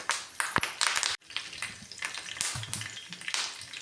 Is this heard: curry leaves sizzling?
yes